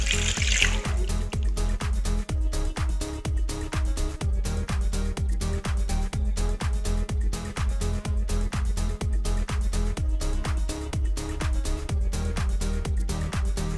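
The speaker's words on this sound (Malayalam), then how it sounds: "ഒരു വലിയ ഗ്ലാസ്സിൽ വെള്ളം ഒഴിച്ചെടുക്കുന്നുണ്ട്." Water pours steadily into a big glass in a home kitchen while mutton mandi with white rice is prepared, a continuous close trickling stream running the whole time.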